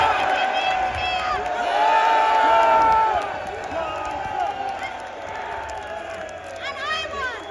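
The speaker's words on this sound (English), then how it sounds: "Men, can you give me a cheer?" Crowd of men cheering loudly at an anti-abortion protest rally in Sydney, a sustained swelling roar of shouts and whoops that peaks and then tapers off.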